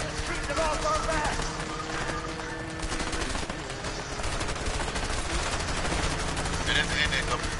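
A video game street shootout with dense, rapid gunfire rattling almost nonstop at a steady loudness, while voices talk excitedly over it.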